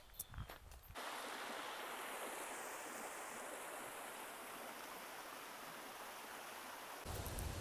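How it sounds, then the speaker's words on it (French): A waterfall below a hiking trail in New Zealand roars as a steady, broad rushing wash, fairly distant and unbroken, with handling noise at the start and end. "j'espère j'ai un point de vue là-bas pour voir la cascade qui est juste en dessous là. Que j'entends."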